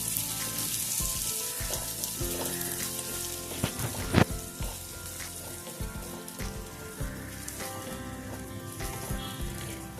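Green chillies frying with onions in a pan for Kerala fish curry, a steady dense sizzle throughout with a few sharper crackles and pops, close and fairly loud, no talking.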